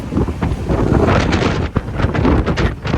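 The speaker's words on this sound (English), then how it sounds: "It is pretty windy out here" Strong gusty wind outdoors in Wellington, New Zealand, buffets the microphone, a loud continuous roar rising and falling with a few sharp gusts.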